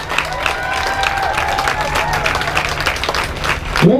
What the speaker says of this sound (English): let's give all of these organizations another big round of applause